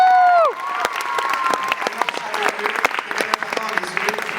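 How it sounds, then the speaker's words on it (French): Audience applause from a comedy show crowd, a dense steady clapping that follows a brief tonal sound at the start and carries on loud and close for several seconds. "Une main d'applaudissement pour mon père."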